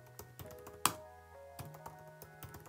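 Password keystrokes on a computer keyboard during home server setup on a ZimaBoard 832 running CasaOS: crisp, close taps in an irregular rhythm, one sharper clack standing out, quiet and with no talking.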